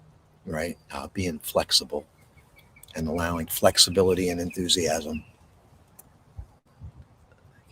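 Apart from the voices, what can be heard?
birds chirping outdoors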